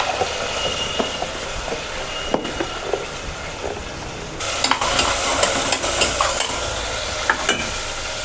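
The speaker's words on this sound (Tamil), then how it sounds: "1 ஸ்பூன் இஞ்சி பூண்டு பேஸ்ட்டு நல்லா வதக்கி விட்ருங்க" Ginger garlic paste sautéing in a pan, being cooked for a boneless mutton macaroni dish, sizzles loudly and steadily while a spoon stirs and scrapes in frequent close clicks, with no speech.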